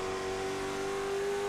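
A race car engine holds a steady, loud, high drone as it runs laps at North Wilkesboro Speedway, heard alone with no voices over it.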